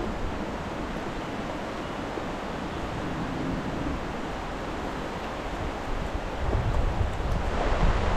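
A strong river current rushes past close by, giving a loud, unbroken wash of broadband water noise that swells slightly toward the end, with no voices heard.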